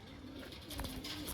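Pigeons for sale coo softly nearby, a brief low murmuring call over faint background noise, lasting just over a second.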